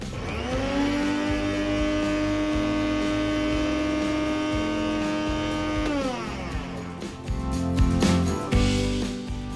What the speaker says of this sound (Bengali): এখন এই দুটোকে খুব ভালো করে একসাথে ব্লেন্ড করে নিব